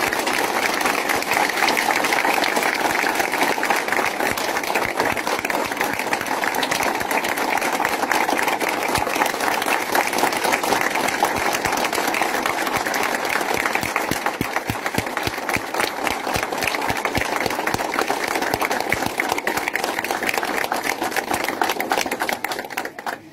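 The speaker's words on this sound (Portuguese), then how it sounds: "Palmas ao nosso herói." Sustained applause from a crowd, dense rapid clapping that holds steady throughout before thinning slightly at the end.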